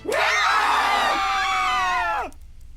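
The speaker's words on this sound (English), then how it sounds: "Soon the ground trembles and the air shifts with their screams" Screaming from a crowd of people, used as a sound effect in a horror visual novel: shrill overlapping screams that swell at once, hold loud for about two seconds and then cut off into near silence.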